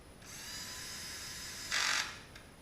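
A power driver runs steadily while large hex bolts go into the bottom of the upper fairing on a 2011 Kawasaki Ninja 250, with one brief louder burst of whirring near the end. The sound is faint and close.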